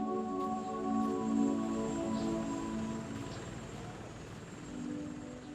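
A Cormorant rescue helicopter sets down in St. John's, its steady rotor drone and turbine whine holding loud and close for the whole stretch with no talk over it.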